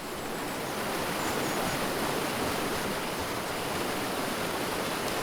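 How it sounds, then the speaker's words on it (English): A waterfall in the video game Gray Zone Warfare, a constant, dense rushing roar at fairly close range, steady and unbroken with no voices. "Is that a waterfall I'm hearing?"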